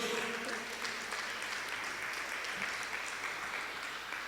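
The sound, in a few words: church congregation applause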